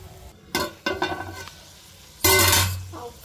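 Dried shrimp fry and get stirred in a pan, with close scraping clatters of a spatula against metal and a bright sizzling burst that fades away.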